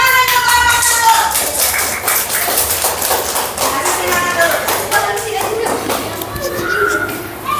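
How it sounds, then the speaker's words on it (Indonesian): Classroom applause for a presenting student group, a burst of many hands clapping with loud voices talking over it throughout. "tepuk tangan untuk kelompok"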